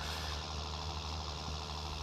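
Tractor engine in Farming Simulator 19 labouring on a slope, a steady low rumbling drone with a constant tonal hum, close and unbroken, no voices.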